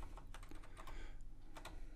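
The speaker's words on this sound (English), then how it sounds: "And I usually use the arrow keys from here." Computer keyboard keys, arrow keys among them, tapped in quick irregular clicks while editing a Word document, heard close and faint with no talking.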